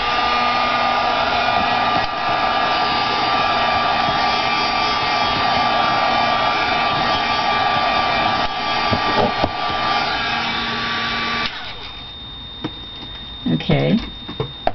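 A hair dryer runs loud and steady for about eleven seconds, warming a wax-finished painted box, then cuts off, leaving quieter handling noises and a brief voice near the end.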